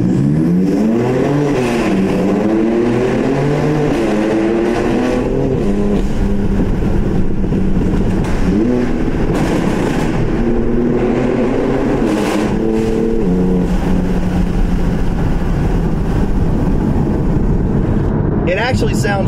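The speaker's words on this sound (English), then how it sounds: "you're not going to get the new M3 and get away from that raspy, kind of ricey, just really obnoxious exhaust note" A BMW F80 M3's exhaust roars and rises in pitch through repeated gear shifts in a tunnel, loud and echoing, with someone talking over it.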